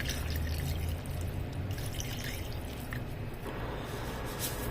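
Water poured and dripping into a spiced egg shami burger mixture of red chilli, curry powder, black pepper, turmeric and cumin, a faint, soft liquid trickle heard close in a quiet kitchen.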